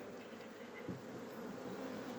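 Hornets buzz steadily around beehives in November, a continuous close insect drone with no speech.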